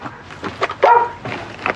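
A police dog barks a few times during a house search, short sharp barks close by amid background commotion.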